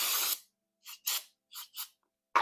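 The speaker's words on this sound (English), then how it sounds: "let me find a good spot to spray this out" An aerosol can of brake cleaner hisses in short bursts in a garage: one longer spray, then four brief puffs in pairs, and a final burst at the end, with silence between.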